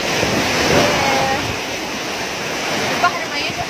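Sea waves wash along the rocky shore at Sharm el-Sheikh, with mountains nearby, in a continuous, loud broadband rush mixed with wind buffeting on the microphone.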